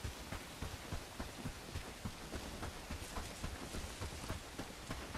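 Steady rain falls in the medieval village-building game Bellwright, a dense, even patter of drops continuing without a break, fairly soft and alone with no talk.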